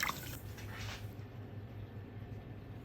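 Tap water runs in a soft, steady trickle over a freshly peeled soft-boiled egg, a faint continuous splashing with a slightly brighter gush at the start.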